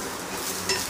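Ingredients for traditional Konkan katla chutney roast in a pan, a short burst of steady sizzling hiss with faint stirring, close and unbroken by speech.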